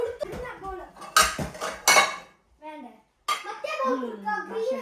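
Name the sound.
washed dishes and pots being put away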